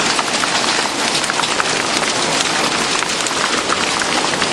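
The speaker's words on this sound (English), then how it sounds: "my cars are getting beaten by hail" Hailstorm on a farm in June, hailstones pelting parked cars in a dense steady roar of hard patter with no let-up.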